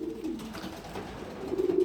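A young blue check pigeon, likely a cock, gives low, soft cooing close by, a steady throaty murmur with no talk.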